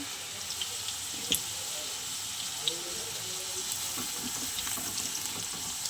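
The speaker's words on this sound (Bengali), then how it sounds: "আলুটা একটু লাল লাল করে ভেজে নিচ্ছি" Diced potatoes fry in a pan with cumin seeds and bay leaf for a vegetarian paneer dish, giving a steady, faint sizzle with a few sharp clicks and light scrapes.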